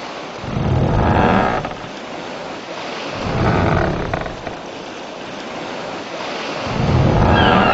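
Wind and rolling sea waves from the Road to El Dorado video game, surging in three loud, rushing swells with quieter lulls between them.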